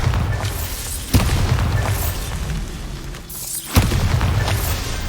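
Bombarda spell explosions in Hogwarts Legacy, two heavy booming blasts about two and a half seconds apart, each with a sharp crack and a long rumbling tail over constant low game noise.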